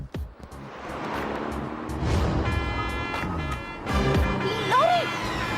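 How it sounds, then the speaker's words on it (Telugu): A lorry approaches along a road, its engine rumble building over a steady broadband roar with a harmonic horn-like tone, mixed with voices and other movie-scene sound. "లారీ!"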